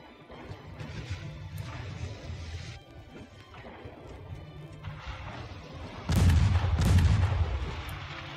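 Warship deck guns firing in the naval game Ultimate Admiral Dreadnoughts, a series of deep rumbling booms rolling through the background, with a louder heavy blast near the end.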